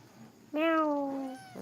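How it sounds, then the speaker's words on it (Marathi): A single clear, drawn-out cat meow up close, falling slightly in pitch, followed by the start of another. "मांजर बघ ना कसं पळतय"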